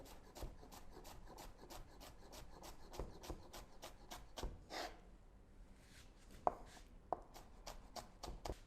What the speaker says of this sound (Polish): Tniemy ją tak. Do kąta prostego, aby zrobić równą kostkę.